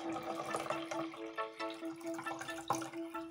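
Water is poured slowly into a small betta fish tank during a water change, giving soft trickling and dripping splashes that come and go irregularly at close range, with no talking.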